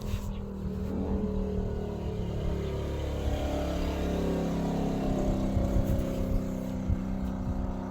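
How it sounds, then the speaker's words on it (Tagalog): Street traffic of passing motorcycles makes a continuous engine drone with low rumbling that rises and falls, while a person talks over it outdoors. "Maraming dumaan na motorsiklo kasi Lunes po ngayon guys."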